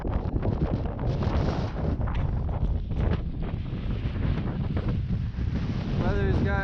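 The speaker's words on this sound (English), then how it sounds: "Weather's gotten a bit worse, a little heavier wind, a little precip" Heavy wind roars across a mountain summit on Ptarmigan Peak in worsening weather with light precipitation, a loud, steady, close buffeting that fills the whole stretch without a break.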